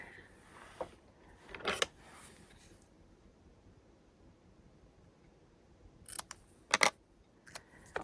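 Scissors cut a paper print down to fit a craft tag, with a few short, sharp snips in two separate bursts and quiet room tone between them.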